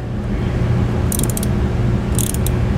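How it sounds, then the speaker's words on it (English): A ratchet fitted with a 10mm socket tightens a wire clamp on a battery charge line kit installation for a 2003 Gulf Stream motorhome, giving two short bursts of quick clicking over a steady low engine-like hum. "Now we'll tighten the wire, clamp up all the way. Okay, we'll use a 10mm socket"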